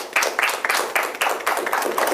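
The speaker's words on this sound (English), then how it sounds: "A round of applause, please." Studio audience at a Nigerian accountancy TV game show claps in a short, fairly loud burst of rhythmic hand claps, near and steady with no voices over it.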